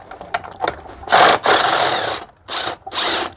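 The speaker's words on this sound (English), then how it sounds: "I like to use my little drill here to take the nut off to 7/8 inch." Small cordless drill with a 7/8 inch socket spinning off a nut from a Pentair 320 pool filter, several short close whirring and ratcheting bursts with brief pauses between them.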